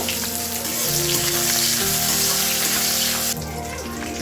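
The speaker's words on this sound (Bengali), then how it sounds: "দিয়ে দিচ্ছি কিসমিস কুড়ি গ্রাম কিসমিস আছে ভালো করে একসাথে ভেজে নেব" Cashew nuts and raisins, twenty grams each, frying together in a pan, a steady close sizzle with faint stirring, then a slight drop in intensity near the end.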